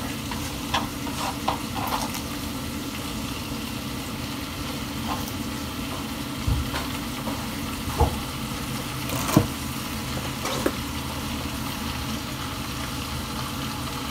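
Spinach sautéing in butter in a pan: a steady, soft sizzle with occasional stirring clicks and scrapes, close by and without talk.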